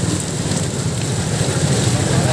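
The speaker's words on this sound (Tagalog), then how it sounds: "Ulan." Steady rain pours on a road in Marikina during evening traffic, a dense, even hiss with low rumbling underneath that carries on without a break.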